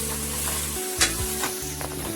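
Local rooster meat frying in a pan gives off a steady, close sizzle, broken by a few sharper crackles and a brief scrape partway through, with no talking.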